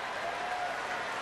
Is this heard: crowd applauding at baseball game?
yes